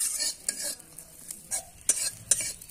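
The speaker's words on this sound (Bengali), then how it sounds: "এভাবে আমি এই ভাজতে থাকব, ভেজে একটু লাল লাল করে নেব।" Garlic and green chilies fry in a pan while a spatula stirs and scrapes them, giving soft sizzling with repeated clinks and scrapes at an uneven rhythm, close by, with no talk.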